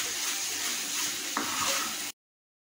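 Spices being stirred and mixed in a hot pan, a steady close sizzle with a brief scrape partway through, heard on its own before it cuts off abruptly.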